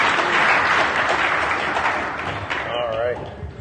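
A DEF CON audience applauds loudly, the dense clapping slowly thinning out, while a voice speaks over the tail end.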